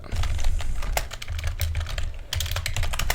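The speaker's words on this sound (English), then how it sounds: "let's just start typing this" Typing on a computer keyboard, a steady run of quick key clicks with brief pauses, close and fairly loud with no talking over it.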